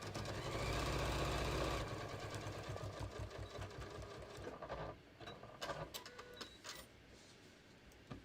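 A sewing machine runs in a loud continuous burst while stitching rows of fabric for a beach tote, then gives way to shorter stop-start runs, fabric handling and quieter clicks, with no talking.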